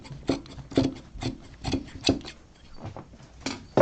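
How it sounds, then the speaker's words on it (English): Scissors cut fabric along a seam in an upholstery class: a close series of crisp rasping snips, about two per second, with short pauses between bursts. "So I'm actually going to cut it all along around here."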